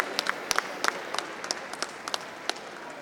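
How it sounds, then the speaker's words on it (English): At a dog show in Manchester, a ringside audience gives a scattered round of applause. Individual claps sound sparse and fairly faint in a large space. "Big round of applause, ladies and gentlemen, to all the other best of breeds who've done exceptionally well today."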